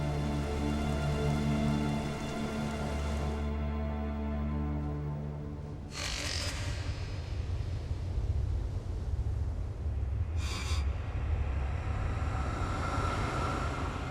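A brief rain shower falls at sea over a diver stranded alone in the ocean, a steady dense patter of raindrops on water and surfaces filling the scene with broadband hiss and occasional louder splashes.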